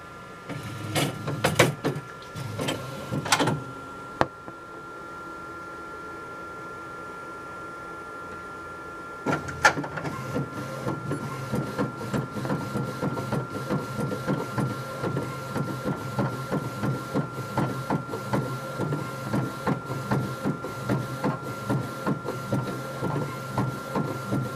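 Primera Bravo 4200 disc autoprinter printing a disc: a few loud mechanical clunks, a quiet pause, then a steady rapid shuttling print head rhythm with a constant motor hum, close and alone.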